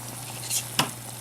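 Cubed chicken breast sizzles briefly in a hot frying pan on a TV cooking set, with a soft hiss and one sharp scrape of a stirring utensil partway through, no talking.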